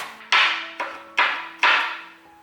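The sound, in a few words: knife chopping ginger into mince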